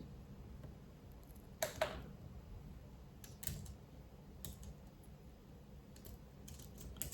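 Sparse, faint keyboard taps on a newly unboxed device as its keyboard is tried out, a few soft clicks spaced seconds apart over a quiet room hiss, with no talking.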